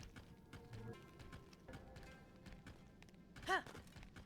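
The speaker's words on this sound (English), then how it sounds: "Skeletal horse! Skeletal horse!" Skeletal horse hooves in the video game Zelda: Tears of the Kingdom, a soft, rhythmic clip-clop of hoofbeats running steadily underneath quiet game ambience, with one brighter accent near the end.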